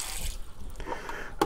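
Tap water runs into a sink while Eheim Classic 250 canister filter parts are rinsed, a steady close splashing with a few clinks and one sharp knock at the end.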